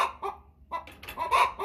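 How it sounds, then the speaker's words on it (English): An American Bresse hen at the nest box gives a run of short, close clucks and throaty calls in uneven bursts. "the response of a hen who just needs to lay an egg"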